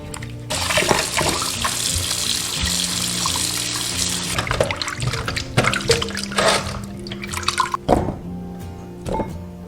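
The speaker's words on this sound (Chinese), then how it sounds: "首先，我们先把姜清洗干净，这上面有很多泥土。" Soil-covered yellow ginger is rinsed clean under a running kitchen tap, with splashing, trickling water and irregular handling knocks close by, and the flow thins toward the end.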